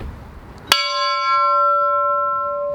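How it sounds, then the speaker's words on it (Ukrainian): A single loud memorial bell strike rings out at a ceremony honoring fallen Ukrainian defenders, its clear tone lingering and slowly fading over a couple of seconds. "Чи не прошиває тобі душу цей дзвін?"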